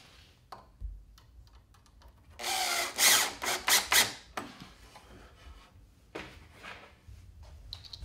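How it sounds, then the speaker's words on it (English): A power drill whirs in a few short bursts close by while mounting an electrical receptacle box, between quieter handling noises. "get your drill handy"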